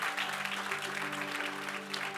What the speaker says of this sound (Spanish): Denle ese aplauso al Señor porque Él es bueno.